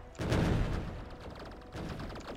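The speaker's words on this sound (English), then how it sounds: "Oh, turrets are engaging." Turret gunfire in the video game Factorio, with rapid bursts of automatic shots, one dense volley followed by a second burst, under game ambience.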